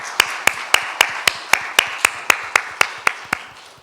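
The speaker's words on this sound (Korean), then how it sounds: "이들을 위해서 감사의 박수를 한번 하겠습니다." A church congregation claps in thanks during a Sunday worship service, a single slow, evenly spaced series of loud, sharp claps heard close and alone.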